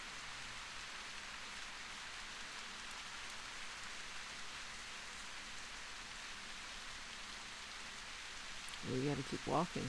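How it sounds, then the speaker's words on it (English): Steady rain falls in The Path, a soft, even wash of drops hissing on surfaces for the whole stretch, with a person speaking briefly at the end. "That rain is really covering. It's getting really wet out here."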